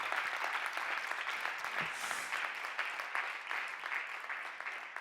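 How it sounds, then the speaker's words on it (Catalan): An audience at a chamber music prize ceremony applauds a cellist with steady, sustained clapping that fills the hall and continues without a break. "Un aplaudiment."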